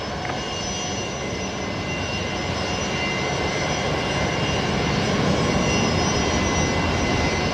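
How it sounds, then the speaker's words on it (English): A Dash 8 turboprop arriving at Brisbane Airport, heard as a loud, steady engine roar with a low rumble and a faint high whine that swells slightly toward the end, with no voices. "next inbound is the Dash 8 coming in from Moranbah"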